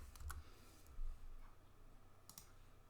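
Soft clicking of fingers typing on a computer keyboard, a few faint scattered keystrokes against a quiet room background.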